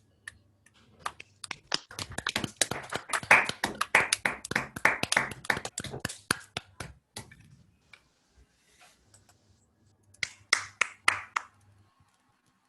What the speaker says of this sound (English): Could I ask people to unmute themselves and give Peter a round of applause?